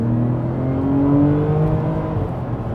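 A Porsche 911 with 385 bhp and 420 Nm of torque accelerates back up to speed, its engine note climbing steadily through the gears as a loud, continuous rising drone heard from inside the car, with no talk.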